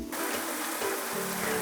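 Shallots browning in a pan make a steady, close, hissing sizzle that runs unbroken through the whole short stretch, with no talking.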